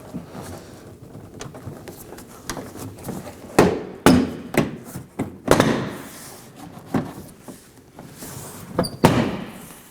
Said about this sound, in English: Now you could go along and unclip the trim panel from the edges.